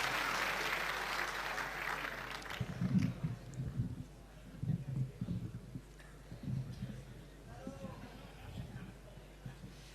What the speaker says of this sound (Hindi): भरपूर तालियों से उसका स्वागत करें।